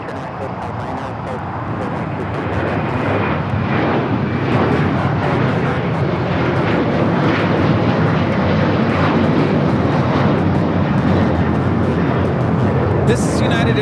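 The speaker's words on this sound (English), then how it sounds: "This is United Airlines 689 taking off to Washington Dulles on the 737-900ER." United Airlines 737-900ER takes off from LAX bound for Washington Dulles, a powerful jet roar swelling over the first seconds and then holding loud and steady, with talk faintly beneath it.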